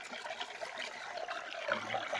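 Stream water runs steadily through a prospecting sluice beside a creek, a continuous close rushing trickle with a fuller, deeper swirl near the end.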